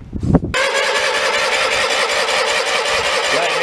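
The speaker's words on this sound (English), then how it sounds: "we're going to show you turning it over, but it does not fire" A brief clunk and whir, then the 18 hp Kohler engine of a Deutz-Allis 3018 tractor cranked by its starter, churning steadily and loudly without catching.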